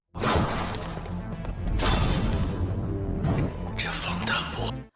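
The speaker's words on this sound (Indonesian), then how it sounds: "suara tembakan terdengar dan beberapa kali mengenai kaca anti peluru" Loud cracks of gunshots striking bulletproof glass, shattering in several bursts, close and harsh, with voices underneath.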